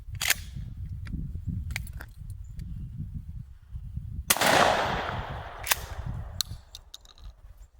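A shotgun fires a single loud, close blast of Winchester 3-inch number 5 shot outdoors, amid scattered clicks and handling noise, with a rumbling wind-like background.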